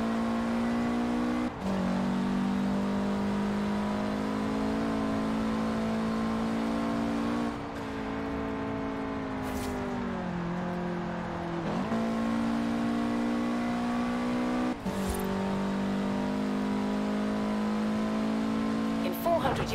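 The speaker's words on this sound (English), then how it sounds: "I like the sound of the engine." Car engine in Forza Horizon 4 holds a steady drone, with pitch dips and climbs at several gear changes, loud and continuous throughout.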